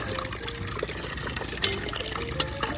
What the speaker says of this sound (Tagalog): Lagyan muna natin ng tubig para lumambot yung mga